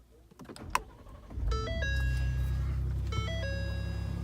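A 2018 Ford F-150 Raptor starts with a push button: chime tones sound, then the engine cranks and settles into a steady, quiet idle heard close up from inside the cab.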